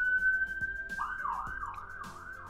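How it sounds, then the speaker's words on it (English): A police car siren wails outside, a steady tone shifting into a rising and falling yelp, moderately distant and heard alone. "That's a police car outside."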